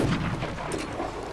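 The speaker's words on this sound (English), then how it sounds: "You can't put more than one cannonball in the cannon." A ship's cannon fires in the pirate game Sea of Thieves, a single heavy boom with a rumbling tail lasting about a second, loud and close with no speech.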